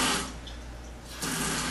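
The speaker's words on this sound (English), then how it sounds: "Okay, I got the water on." Water runs steadily from a newly installed American Standard kitchen faucet into the sink, a close, continuous hiss that dips slightly and then surges back louder, with no talking.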